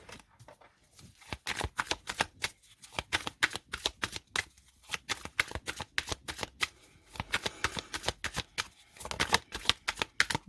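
Oracle cards are shuffled and cut by hand, giving repeated quick, crisp riffling bursts close to the listener, separated by brief pauses, with no voice over them.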